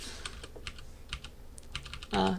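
Rapid clicks of typing on a computer keyboard come in irregular bursts of keystrokes during a lecture, close and fairly quiet.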